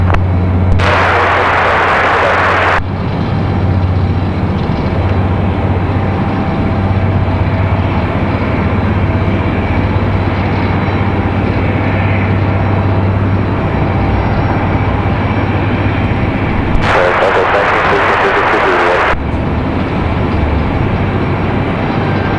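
An airplane doing a touch and go on runway 23 left at Raleigh-Durham International Airport, a loud sustained engine roar that holds steady throughout, with brief bursts of radio or static noise near the start and again later.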